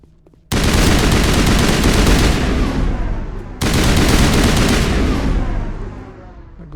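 Sustained automatic gunfire in the Mass Effect video game, loud and dense, bursting in suddenly, cutting briefly, then resuming in a second long volley with no talk.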